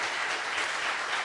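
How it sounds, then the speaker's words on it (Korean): Audience applause at a Korean academic lecture on Buddhist humanism, a brief dense patter of clapping heard at a distance and fairly quiet. "우리 크게 박수 한번 쳐주시고요."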